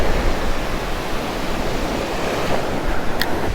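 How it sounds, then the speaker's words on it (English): Ocean waves break close to a shallow beach in a steady, loud wash of surf, a continuous roar with some wind buffeting the microphone and no talking. "You can see these waves where they're breaking in nice and close."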